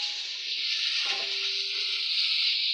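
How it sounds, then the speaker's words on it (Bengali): Potatoes dropped into hot oil while cooking a banana-flower dish with prawns, giving a steady bright sizzle and hiss throughout, with a brief clatter of them going in midway. "এইভাবে আলুগুলো তেলের মধ্যে দিয়ে দিই।"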